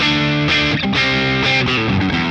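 Electric guitar through a Boss Katana 50 MK2 amp's crunch variation setting, a warm distorted tone with sustained chords shifting a few times, loud and continuous without any voice.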